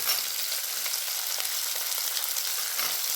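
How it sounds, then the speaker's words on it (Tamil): Mixed vegetables, including potato, beans and cauliflower, fry in hot oil with a steady, close, bright sizzle and faint crackles throughout. No talking. "எண்ணெயில் நல்லா குக் பண்ணி வச்சுருவோம்"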